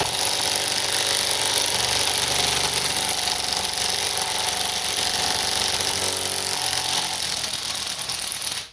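An impact wrench drives a bolt through a VEVOR 3/8-inch drive impact socket, giving a loud, continuous hammering rattle that holds steady and close for the whole stretch, with no talking.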